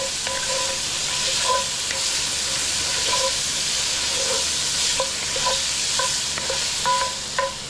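Smoked pork chops frying over medium heat in a pan for Cajun jambalaya, giving a continuous loud sizzle with light, intermittent clicks and taps from the pan or utensil, no talking.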